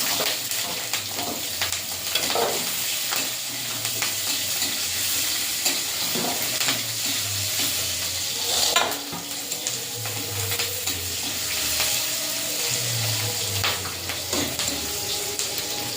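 Continuous sizzling of onions frying in a pan with chilli and Bengali five-spice, with repeated stirring scrapes and a faint murmur of voices in the background.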